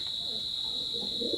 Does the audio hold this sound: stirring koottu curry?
no